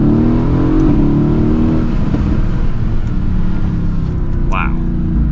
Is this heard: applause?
no